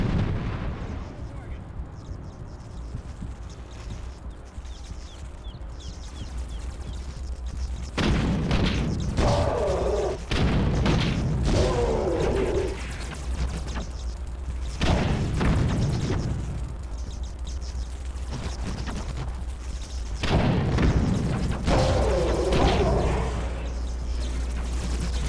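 Repeated deep booms of cannon fire in the game The Incredible Hulk, heavy blasts recurring every few seconds over a constant low rumble.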